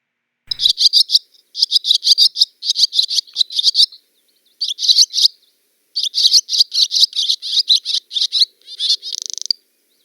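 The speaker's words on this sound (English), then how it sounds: "if you guessed barn swallow, you're absolutely right" Barn swallow calls come in fast bursts of sharp, high chirps and twitters, clustered in quick rhythmic runs with short pauses between, close and clear against a quiet background with no talking.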